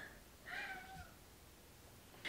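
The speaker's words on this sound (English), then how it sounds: "my cat's trying to get into the room" A faint cat meows once and a second meow starts at the end, quiet and somewhat distant against a low background hiss.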